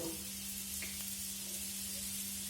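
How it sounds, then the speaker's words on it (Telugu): Cumin and mustard seeds dropped into hot oil crackle and sizzle in a continuous, moderately quiet hiss, alone without talk. "ఆయిల్ హీట్ అయినాక కొంచెం జీలకర్ర ఆవాలు"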